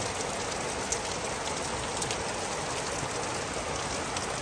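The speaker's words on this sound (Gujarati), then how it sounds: "કેટલો વરસાદ પડે છે જો" Heavy rain pours in Patan, a dense, even hiss of drops drumming on surfaces that stays constant throughout, with no speech.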